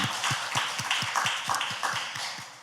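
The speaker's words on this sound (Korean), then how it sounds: "하나님께 감사와 찬양과 영광의 박수 올려드리겠습니다." Church congregation claps in praise during a worship service, a rhythmic run of soft, regular claps with a steady beat, moderately quiet and somewhat distant in a reverberant room.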